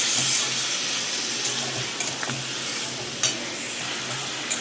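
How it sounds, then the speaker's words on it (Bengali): A Bengali vegetarian mixed-vegetable curry with ground spices is stirred in a hot pan after water is added, giving a steady close sizzle and frying hiss with occasional scraping knocks of the spoon. "জলটা দিয়ে বেশ ভালোভাবে নাড়িয়ে চাড়িয়ে নিই।"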